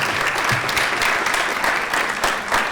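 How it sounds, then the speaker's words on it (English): An awards ceremony crowd gives the Tempe Diablos a steady, full round of applause, many hands clapping evenly at a consistent loudness throughout. "We still should give the Tempe Diablos, obviously, a big round of applause for all that they do for our community."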